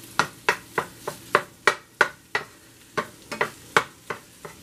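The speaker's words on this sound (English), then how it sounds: "We're going to let this brown up." Ground meat for shepherd's pie browning in a pan, with a spoon scraping and stirring in a steady rhythm of sharp clacks over a soft sizzle, close and fairly loud with no talk.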